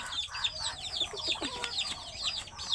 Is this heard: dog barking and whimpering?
no